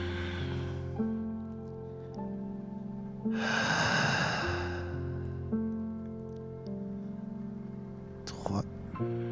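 A deep, slow breath in and out during a yoga pose, one loud breathy swell in the middle and a sharp exhale near the end, over soft sustained background music.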